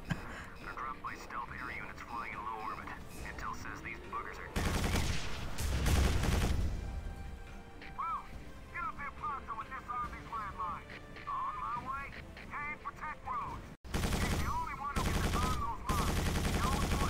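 A plasma gun in the first-person shooter Quake 4 fires bouncing blue plasma bolts in loud bursts, with clustered volleys around the middle and near the end, while a player talks at moderate level in the quieter stretches.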